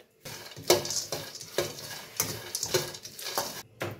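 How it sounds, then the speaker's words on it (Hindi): Peanuts being dry-roasted and stirred in a pan while making flaxseed pinni, giving soft scraping and rattling strokes with faint sizzle in an irregular rhythm, close by with no talk. "तो ये हम भून लेंगे पीनट।"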